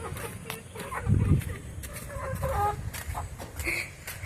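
A hen clucking nearby outdoors, a series of short repeated clucks over a few seconds with low background noise and faint voices.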